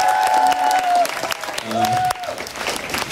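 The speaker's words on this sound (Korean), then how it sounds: "MC분에게도 큰 박수 부탁드릴게요" Concert audience applauding and cheering for the MC at a show, loud and close, with a voice speaking over the clapping at first before the crowd noise carries on alone.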